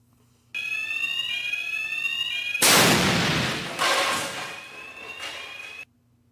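Parachute mortar fired during a deployment test: a sudden loud blast over a high tonal whine, followed by a second burst and decaying roar, then the tone resumes and cuts off.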